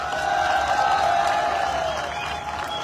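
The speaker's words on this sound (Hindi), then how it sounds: "इसके लिए आप लोगों को तालियां बजानी चाहिए" An audience applauding at a product launch, a dense, steady wash of clapping from a crowd that stays loud throughout and fades slightly at the end.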